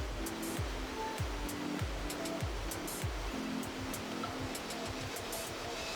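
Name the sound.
Proxy Falls waterfall plunging into canyon, Oregon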